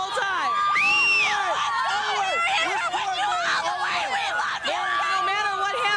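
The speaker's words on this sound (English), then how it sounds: "Give me a cheer, you guys" Marian Catholic fans cheering at a 2002 IHSA Class AA girls basketball championship game, a loud sustained roar of many shouting, whooping voices filling an indoor gym.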